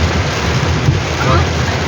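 Heavy rain from a severe storm pours over a vehicle on the road, a dense, steady hissing roar mixed with road and wind noise that stays loud throughout.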